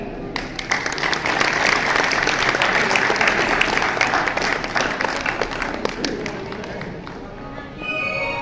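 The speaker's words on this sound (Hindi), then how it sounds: "ताली बजाएं" Audience applause fills a Hindi-language workers' seminar hall, a steady dense clapping that holds loud for about eight seconds with voices mixed in, then tapers slightly at the end.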